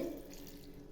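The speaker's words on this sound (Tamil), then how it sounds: "கொஞ்சமாக தண்ணி சேர்த்து" A short, soft trickle of a little water pouring steadily into a mixer jar, quiet and close, with no voices.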